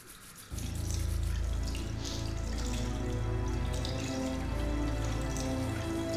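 Running water pours steadily after a short pause, washing off blood in the video game Fahrenheit; the flow is loud and continuous with a splashing, tap-like rush.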